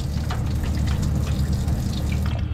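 Water rushing steadily into the live well of a 2022 Alaskan 250 boat, a loud, continuous splashing gush close by with no pauses.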